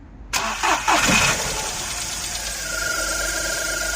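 A car engine cranks and catches after a moment of silence, then settles into a steady close idle with a thin high whine from a newly fitted alternator running over the rumble.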